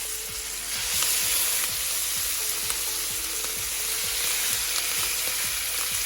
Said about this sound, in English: we'll quickly cook this lamb cutlets in a pan with lots of butter